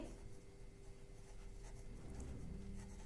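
Pen strokes from someone writing out an accounting journal entry for goodwill brought in by a new partner, a faint continuous scratching that persists under a low steady hum in a quiet room.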